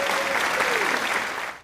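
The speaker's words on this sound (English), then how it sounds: "let's give a round of applause to women's field hockey and men's pickleball team" Students and families applaud at a school athletics event as new sports teams, women's field hockey and men's pickleball, are introduced; a dense, steady burst of crowd clapping that holds throughout, then cuts off abruptly.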